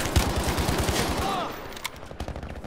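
An artillery strike lands in a tank combat video game as a dense, loud rapid-fire burst of blasts, followed by scattered lighter impacts and faint game ambience.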